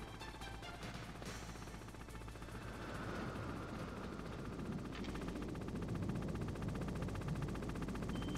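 Helicopter in the Metal Gear Solid video game, heard as a steady dense rotor and engine drone amid continuous rattling gunfire-like noise throughout, loud and unbroken with no talking.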